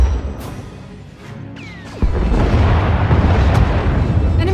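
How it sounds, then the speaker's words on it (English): An enemy Thranta-class warship firing turbo lasers and missiles in the Star Wars: The Old Republic video game, a whooshing launch followed by a loud booming explosion and a sustained roar of blasts. "Enemy is firing. Turbo lasers, missiles, and what looks like transport pods."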